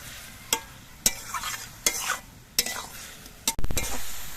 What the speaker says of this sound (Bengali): এবার আমি ভেজে রাখা বেগুনগুলো দিয়ে দিচ্ছি